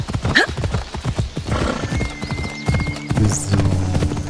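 Hooves clatter in a fast galloping rhythm while a horse neighs loudly in Assassin's Creed Odyssey, with game-like effects layered over the busy, close-up sound.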